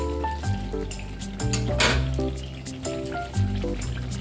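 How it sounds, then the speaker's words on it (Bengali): Butter chicken with chicken leg pieces sizzling in a pan as a small splash of water goes in, a steady frying hiss with a brief louder burst midway, close and alone. "আমি এবার একটু জল দিয়ে দিলাম অল্প করে"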